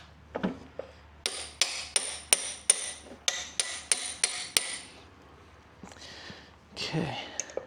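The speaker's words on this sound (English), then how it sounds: "Need a hammer." A hammer strikes the axle of a 1976 Honda Elsinore CR125 motorcycle during race prep, a run of about ten sharp, evenly spaced metallic blows close by, followed by a few scrapes and handling noises.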